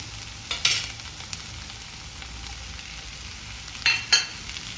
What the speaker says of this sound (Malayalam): വെണ്ടക്കായ ഇട്ടിട്ട് ഇപ്പം ഞാൻ നന്നായിട്ട് ഞാൻ മിക്സ് ചെയ്യുന്നുണ്ട്